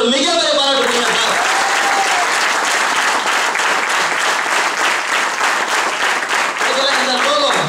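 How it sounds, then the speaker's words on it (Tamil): An audience at a Tamil motivational lifestyle training event claps loudly and steadily for several seconds, with a voice heard briefly at the start and end over the dense applause. "ஒரு மிகப்பெரிய பாராட்டு சார்."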